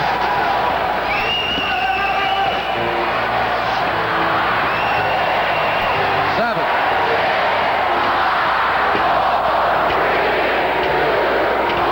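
Hockey arena crowd roaring through the final seconds of a 1987 USA versus USSR game, a dense, steady wall of cheering and chanting voices close and loud for the whole stretch, with scattered whistles on top.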